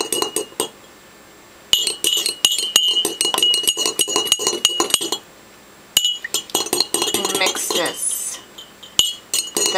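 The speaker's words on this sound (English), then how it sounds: "I am going to take a fork coat the fork in some of the violet dye" A metal fork clinks and taps repeatedly against a dish while being coated in violet food-coloring dye for handpainting wool roving, sharp close clatters in irregular bursts with brief pauses.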